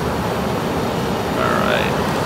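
A steady broadband jet roar from a Harrier jet aircraft in the naval combat video game Carrier Deck, with a brief rising whine partway through. It stays even and fairly loud throughout.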